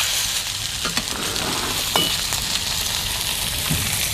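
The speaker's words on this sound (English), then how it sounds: "I'm going to just sear this tenderloin in that hot oil on both sides" Pork tenderloin searing in hot oil, a dense, even sizzle heard close and loud throughout, with faint clicks and scrapes mixed in.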